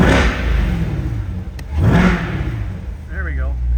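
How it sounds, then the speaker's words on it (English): A 2022 Corvette C8 convertible with NPP performance exhaust revs twice in quick succession, each blip rising and falling loudly and close by, with a low idle rumble between them. "let's give it a couple revs for you guys."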